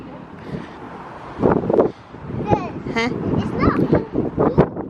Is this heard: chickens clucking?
no